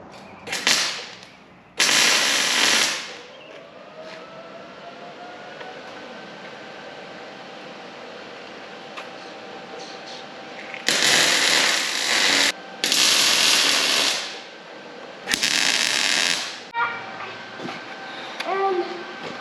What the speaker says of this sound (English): We need to put some more welds on there. We're just tacking it for now.